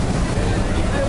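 Maid of the Mist tour boat at Niagara Falls, its steady engine rumble blending with rushing water and wind buffeting the microphone, loud and close, with voices talking over it.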